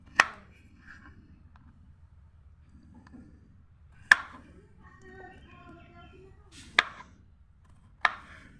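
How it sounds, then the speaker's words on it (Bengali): Knife chopping raw and ripe guavas into medium pieces on a board, four sharp separate cuts spread out over several seconds, close and clear against a quiet room hum. "এখন একটা নির্দিষ্ট সাইজ মতো আমি পেয়ারাগুলোকে কেটে নিব।"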